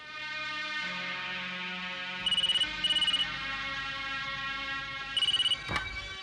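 A telephone rings in short repeated bursts, three double-pulse trills spread across the moment, heard over a low background score in a Hindi police drama scene.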